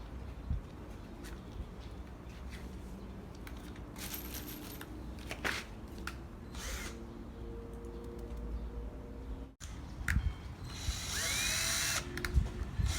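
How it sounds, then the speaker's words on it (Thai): Power drill boring into leftover pallet wood while building a compost bin: close, intermittent bursts of motor whine and grinding bite into the wood, growing louder and more sustained near the end. "เจาะไม่เข้า"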